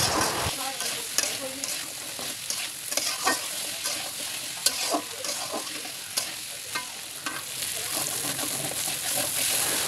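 Potatoes fry with salt and turmeric for a beef dish, a constant close sizzle mixed with scraping and clattering as they are stirred nonstop, with no one speaking.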